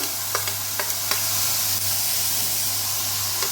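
Chicken frying in a pan just as cut capsicum goes in, giving a steady, close sizzle with a few soft stirring scrapes and taps on top; no one speaks.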